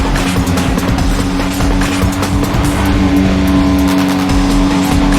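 A BMW driven hard in the racing game NFS ProStreet, its engine roaring loud and close with a sustained drone, tire noise and shifting revs throughout.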